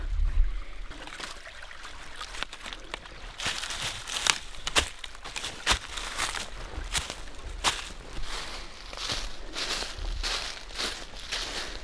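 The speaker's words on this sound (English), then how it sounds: "I have found some water here." Water trickles and splashes over rocks in a steady, close stream in the woods. Scattered crunching footsteps and rustling come and go on top of it.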